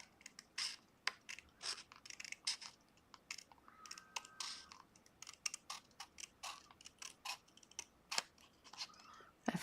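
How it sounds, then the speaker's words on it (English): Small detail scissors trimming paper during a DIY book end craft build, heard close as a quiet, irregular series of crisp snips and scratchy cuts with no talking. "So I'll use my fussy scissors."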